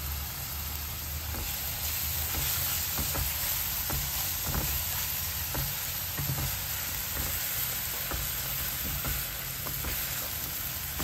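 Onion paste sizzles steadily in a pan as it is sautéed for restaurant-style peas masala, a continuous close frying hiss broken by light stirring clicks, with no voices.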